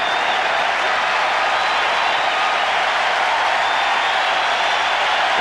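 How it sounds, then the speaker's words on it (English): A large baseball stadium crowd at the 1992 World Series between the Atlanta Braves and Toronto Blue Jays roars and cheers steadily, a dense unbroken wall of noise anticipating a strikeout. "The crowd hoping for the strikeout."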